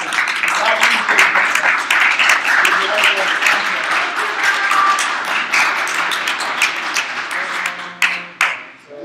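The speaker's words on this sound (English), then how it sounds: "Give this guy a round of applause" An audience gives steady, close applause after a Python 101 talk at HackMiami. Dense clapping carries on for several seconds, with voices mixed in, and tapers into scattered claps near the end.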